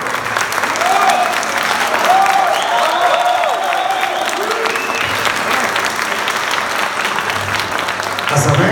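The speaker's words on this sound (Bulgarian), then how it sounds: "Моля още веднъж за аплодисменти" Sustained audience applause fills a room at a Bulgarian hospitality association's Chef of the Year 2018 award ceremony, a steady dense clapping that runs the full length with crowd murmur mixed in.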